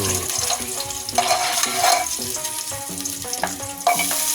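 Garlic and onion sauté in a pan for pork ribs sinigang, giving a steady frying hiss with stirring, heard beneath louder background music.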